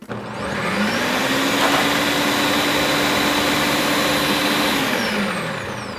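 A blender motor spins up to a loud, steady whir at maximum power on the high setting, holds for several seconds, then starts to wind down.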